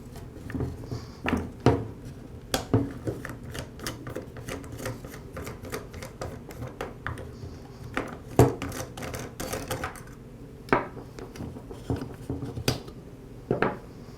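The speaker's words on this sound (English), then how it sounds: "I'll begin by removing the bump head knob and the spool." Small plastic clicks, snaps and knocks come from a bump head knob and spool being pulled off a Ryobi string trimmer, close up and irregular, with short bursts of rattling and no talking.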